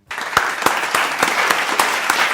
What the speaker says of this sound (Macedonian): Аплауз за мен.